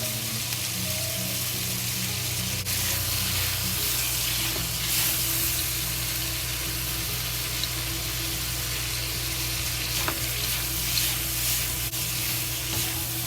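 Sliced onion and crispy sausage with a spoon of soy sauce fry slowly in a pan, giving a loud, continuous close sizzle with a few faint utensil taps over a steady background hum.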